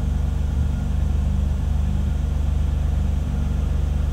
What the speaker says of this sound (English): Car's idling the same.